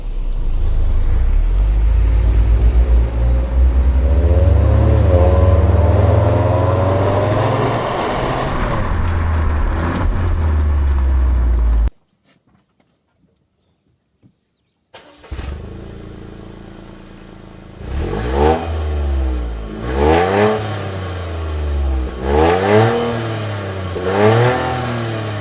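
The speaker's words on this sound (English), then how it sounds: "What you're hearing is the actual exhaust." Exhaust of a 2025 Toyota GR Yaris with its turbocharged three-cylinder engine, heard accelerating hard through the gears: a loud, rising rasp that cuts off briefly, then returns with repeated revving surges and drops, no talking over it.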